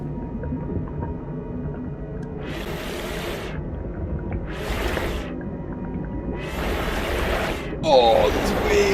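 Ocean waves in the No Man's Sky video game wash in as repeated broad surges about every two seconds over a steady low rumble of wind and water.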